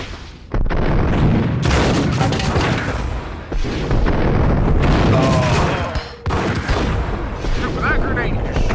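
Loud grenade blast in the shooter game Max Payne, a heavy broadband boom that erupts suddenly and keeps rumbling with debris and gunfire-like bursts through several seconds, with brief dips between repeated blasts.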